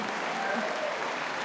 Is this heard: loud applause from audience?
yes